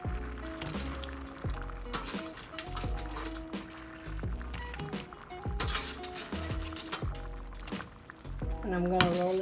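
Crispy fried chicken wings are rolled and tossed in sauce in a bowl, giving faint wet stirring, clinking and light scraping sounds in an irregular rhythm at close range.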